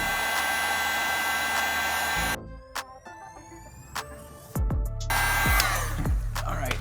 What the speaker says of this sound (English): let's put our heat gun on heat level number 1